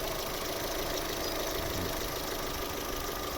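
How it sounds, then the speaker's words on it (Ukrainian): A 2011 Opel Zafira's naturally aspirated 1.8 petrol engine idles steadily up close, a constant rumbling drone with a faint rhythmic knock and no voices. "Ось робота двигуна."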